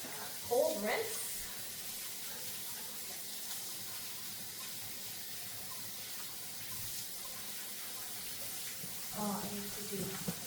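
Cold tap water runs into a colander in a home kitchen while Vietnamese fresh spring rolls are prepared, a soft steady splashing stream with brief bursts of talk near the start and end.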